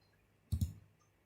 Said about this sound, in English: I am clicking back button.